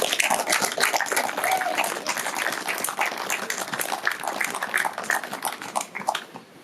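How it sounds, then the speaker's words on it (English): An audience at a river restoration celebration breaks into sustained applause, a dense clatter of many hands clapping close by that tapers slightly toward the end. "you all deserve a huge round of applause for yourselves"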